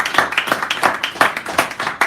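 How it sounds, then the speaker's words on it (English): Steady, lively applause from a café audience at an evening poetry reading in San Francisco, with dense overlapping hand claps filling the whole stretch, close and fairly loud. "Give her a nice round of applause here."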